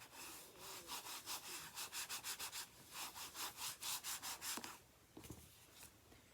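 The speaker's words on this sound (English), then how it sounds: "give that a quick burnish." Quick, rhythmic rubbing strokes of a burnishing tool pressed across paper card while assembling a matted easel-back card, a dozen or so close, dry swishes in bursts before a soft tap and quiet.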